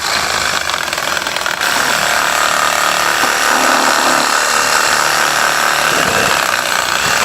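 While a Subaru Forester's rear end is being reassembled, a power tool runs continuously close by with a steady, harsh mechanical drone and rattle, with no voices.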